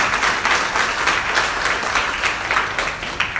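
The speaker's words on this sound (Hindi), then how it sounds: "Can you clap?" A congregation at a bilingual Hindi-English church service claps together in a steady, sustained burst of applause for several seconds, with no voices over it.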